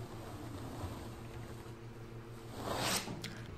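Contact paper peeled by hand off an older coffee table's finish: a low, tacky ripping that swells to a louder tearing burst near the end, over a steady background hum.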